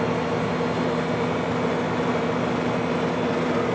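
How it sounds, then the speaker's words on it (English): A Sorvall RC-5C refrigerated superspeed centrifuge hums steadily as its refrigeration kicks in, a loud constant drone with layered tonal whine and broadband machine noise, no speech. "Hear the refrigerator kick in."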